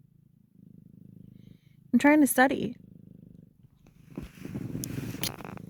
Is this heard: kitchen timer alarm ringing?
no